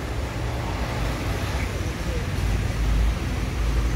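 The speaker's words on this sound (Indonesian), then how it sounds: "Ini bus pariwisata ini jadi bus" A tour bus carrying holiday travellers passes on the road, a steady loud engine and tyre rumble that swells slightly toward the end, with people talking over it.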